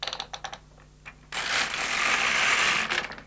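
LK150 knitting machine carriage pushed across a row at stitch size 8: a few light clicks, then a sustained close whirring, rattling slide lasting about two seconds before a few final clicks, with no talk.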